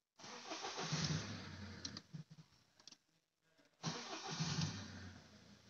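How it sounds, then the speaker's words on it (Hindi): A Mahindra Scorpio engine is cranked with the starter, two loud bursts of cranking and firing close by, separated by a quieter gap of faint ticking. "अब मैं सेल्फ मारता हूँ, ये गाड़ी भाई स्टार्ट।"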